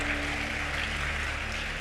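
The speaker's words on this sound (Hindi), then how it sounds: "अपने ही व्यवहार पे ताली भी बजा रहे हो" An audience at a Srimad Bhagavat Katha religious discourse claps together, giving a steady, dense wash of applause that holds at an even level for the whole short stretch, with no voices over it.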